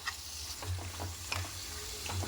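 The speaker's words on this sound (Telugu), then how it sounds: "ఇప్పుడు దీన్ని ఇంట్లో కలిపేసుకొని మంచిగా ఫ్రై చేసుకోవాలండి." Goat head curry pieces fry in oil while being stirred, giving a soft, steady sizzle with scattered scraping and clinking stir sounds, fairly faint and close, with no talking.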